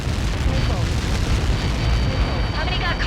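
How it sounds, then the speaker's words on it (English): A massive explosion from a Helios projectile impact in the air-combat game Ace Combat 7: Skies Unknown, a loud, sustained low rumbling roar that fills the whole stretch, with radio chatter and voices mixed in. "How many got caught in that explosion?"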